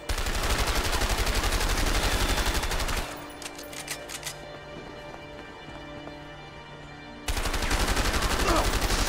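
Rapid automatic gunfire blazes in the video game A Way Out, loud and close in dense bursts, cutting out for a few seconds of quieter sound before resuming just as intensely.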